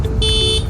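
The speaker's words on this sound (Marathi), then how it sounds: "ते हॉर्न देऊ, वरनं येणाऱ्या गाड्या बघू, क्रॉस करू." A car horn gives one short, loud honk at a road crossing, its tone bright and steady, over the low rumble of the vehicle.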